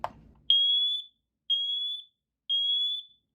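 A Siterwell smoke and carbon monoxide alarm, being tested, gives three long, shrill electronic beeps at even intervals, preceded by a brief click.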